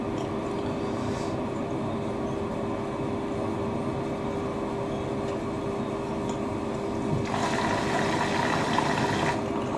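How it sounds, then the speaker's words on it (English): A Siemens IQ300 WD14H320GB/02 washer dryer on an intensive dry cycle hums steadily, then water gushes into the drum onto the load in a loud hissing burst for the last couple of seconds. "it dumps water into the machine and that's dumped it on the load"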